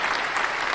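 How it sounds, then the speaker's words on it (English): A brief burst of applause from a small group, steady and dense throughout with no pauses. "We got a round of applause"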